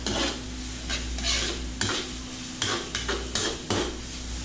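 Pork and mung beans sauté in butter in a pan, with steady close sizzling under repeated sharp scrapes and knocks of a utensil stirring against the pot, no one talking.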